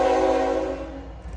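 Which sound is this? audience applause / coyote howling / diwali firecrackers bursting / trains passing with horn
trains passing with horn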